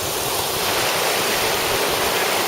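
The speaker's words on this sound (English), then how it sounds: "This little river comes all the way from up there." A small river in the Lake District rushing steadily, a loud continuous broadband wash of flowing water close by with no breaks and no voices.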